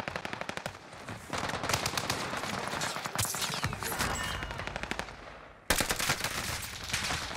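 Gunfire in the shooter game Warzone Pacific: rapid automatic bursts, close and loud, firing almost continuously with brief gaps and a sharp, louder volley near the end.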